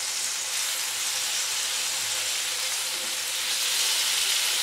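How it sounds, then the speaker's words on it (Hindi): Chicken tikka pieces frying in a pan over low heat, turned to cook the second side, give a steady, soft sizzle and hiss that runs evenly throughout with no talking. "अब हमने दूसरी साइड पे कर दिए हैं। इसी तरह हम आराम आराम से इसको बिल्कुल स्लो आंच से पकाएंगे।"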